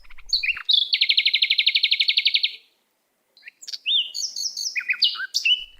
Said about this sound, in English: we got the ribbon-tailed Astrapia